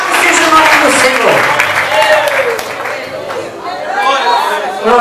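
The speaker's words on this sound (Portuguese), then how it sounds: "glorifica a Deus com as palmas bonitas" A church congregation at a prayer circle service claps steadily, with a voice speaking loudly over the sustained applause and general chatter.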